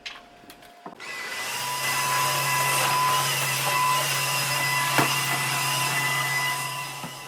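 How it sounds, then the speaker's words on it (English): A vac mop running across a bathroom floor, a steady motor whine with a low hum that starts after a brief clatter and continues close and even, with a small knock midway. "I'm using my vac mop in here"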